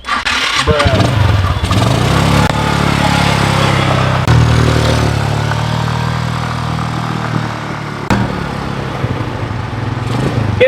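A motorcycle taxi engine cranks and catches, then revs and idles loudly up close, with people talking over the running engine.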